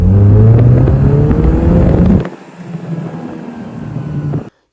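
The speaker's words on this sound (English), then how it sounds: "a horrible, violent vibration low down in the rev range in gears 1 through 3" A Lotus Esprit S1 engine runs with a loud, rough low-rev drone and heavy vibration, then drops to a quieter, uneven idle before cutting off abruptly.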